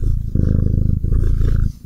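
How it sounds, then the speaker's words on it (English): A cat's purring is played back during a podcast: a loud, steady low rumble that runs continuously, with a brief dip near the middle, and no talking over it. "Playing a cat purring."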